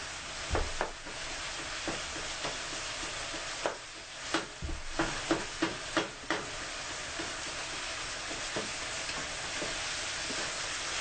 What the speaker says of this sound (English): the meat is almost done, but I'm still breaking it up a little